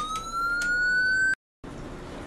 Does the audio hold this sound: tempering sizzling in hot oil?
no